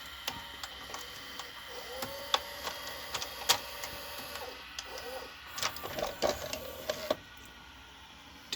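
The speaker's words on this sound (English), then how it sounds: "The lack of usage might have contributed to these noisy bearings in the head." Faint whirring and irregular ticking, scraping and squeaking from the worn head bearings of a late-1980s Samsung VT7253CC VCR, a quiet mechanical hum with clicky bursts toward the end.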